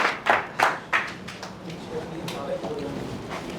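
Audience clapping at a Holi poetry gathering of a literary forum in Kabirdham, Chhattisgarh, welcoming a poet to the stage; a few loud bursts of claps open the clip, then fade into a quieter murmur with some talk.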